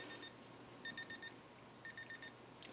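Avon Tech portable weather station alarm clock (model F3730621) sounding its alarm: three bursts of four quick high-pitched beeps, evenly spaced, fairly faint against a quiet room.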